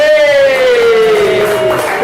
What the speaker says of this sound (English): if you just give the big cheer, so just imagine there's Beyonce coming down the stairs